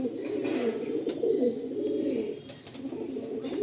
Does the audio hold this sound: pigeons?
yes